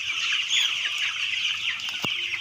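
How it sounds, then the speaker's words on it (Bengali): Several roosters cluck and chatter continuously at midday on a hot day, a busy nearby flock with one short, sharper call near the end. "মোরগগুলো অনেকে ছড়া ছিটে দিছে"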